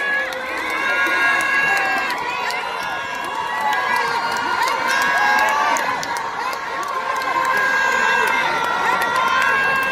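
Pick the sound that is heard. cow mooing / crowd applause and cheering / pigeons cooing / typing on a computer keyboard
crowd applause and cheering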